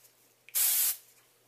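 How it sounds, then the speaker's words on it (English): A can of dry shampoo sprays into hair in one short, loud hiss of about half a second, preceded by a faint click and heard alone in a quiet room. "So I like to shake it up and then I spray it."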